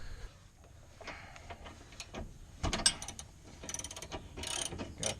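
A ratchet clicks in quick bursts while bolts are loosened on the rear axle of a 2014 Scion FR-S in a garage, with metallic handling noises in between, close and fairly quiet.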